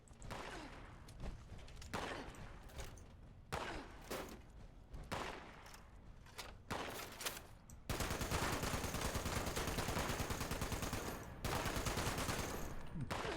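Gunfire in the video game Fallout 76: bursts of shots in uneven clusters for the first half, then a dense, sustained rattle of rapid fire that continues almost without a break.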